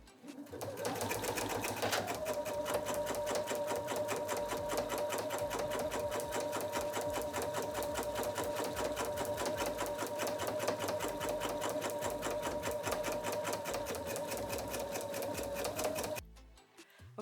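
An embroidery sewing machine stitches an outline design onto a blanket, its needle running a fast, steady mechanical chatter with a constant whirring hum for about fifteen seconds before stopping abruptly.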